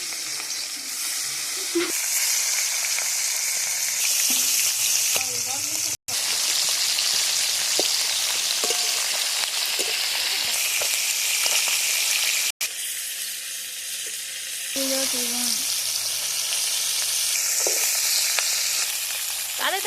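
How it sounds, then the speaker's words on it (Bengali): Fish fried in hot oil for a Bengali fish curry give off a loud, continuous sizzle and crackle, steady throughout with two brief cuts, and occasional stirring noises over the hiss. "তেলটা গরম হয়ে গেছে, এরপর এর মধ্যে আমি মাছগুলো ছেড়ে দেবো।"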